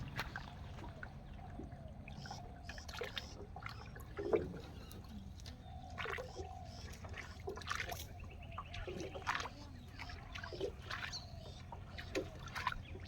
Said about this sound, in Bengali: খুব সুন্দর নৌকা, খুব স্পিডে চলছে, ছোট্ট ডিঙ্গি